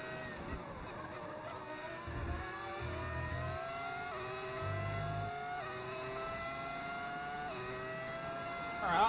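A modded race car engine sound in the F1 25 game, on a BMW team car, whines steadily and climbs through several gear upshifts in repeated stepped rises, moderately quiet, with faint low voice bits beneath.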